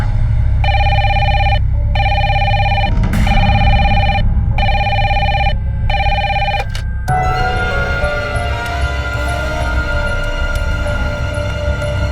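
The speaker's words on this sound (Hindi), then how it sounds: "किसका फोन है?" A telephone rings in loud, evenly spaced electronic bursts for several seconds in a tense home scene, then stops, leaving a low room rumble behind.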